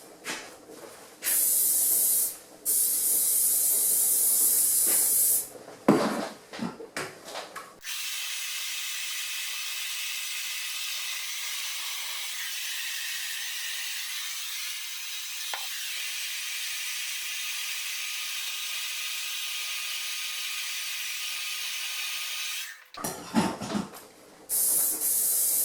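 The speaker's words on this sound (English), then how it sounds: "just put another layer of spray just over, just for a top coat" Hairspray from an aerosol can misted over liberty spikes for a top coat, as a steady loud hiss in several bursts of different lengths, with one long continuous spray in the middle and no talking.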